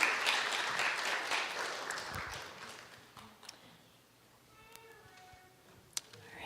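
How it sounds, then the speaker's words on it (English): Audience applause at a book launch and Korean heritage celebration, a broad burst of clapping that fades over several seconds into a quieter room with a few small knocks. "Round of applause."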